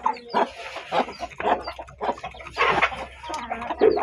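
Five-month-old chickens clucking and squawking at feeding time, with a rooster among them. The calls are busy and overlapping, loud and close, and they continue throughout without pause.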